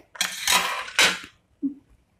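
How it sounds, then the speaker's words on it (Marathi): Bitter gourds drop into a pot of water with a couple of quick clattering splashes close by, followed by a softer single knock. "त्याच्यात आपण हे कारले टाकून देऊ।"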